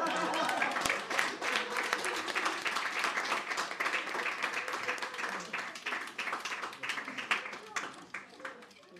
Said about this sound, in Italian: Grazie, applauso.